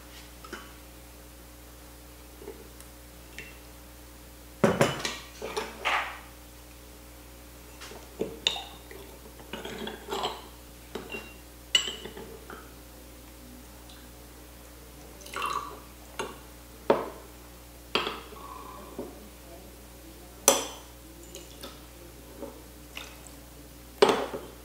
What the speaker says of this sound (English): I always like to rinse my tea wares